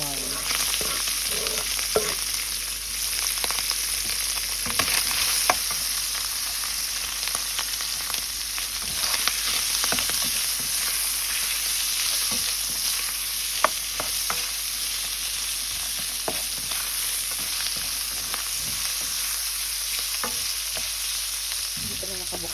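Onion sautés in a pan for yakisoba noodles, giving a steady, loud sizzle with occasional stirring clicks and no talking.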